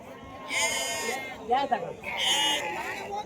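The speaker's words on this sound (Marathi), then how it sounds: "भरपूर मोठ्या मेंढ्या वगैरे येतात बाजारामध्ये" Two loud sheep bleats, one early and one later, close by, with a brief burst of voices in between and livestock market chatter underneath, at Loni bazar in Maharashtra.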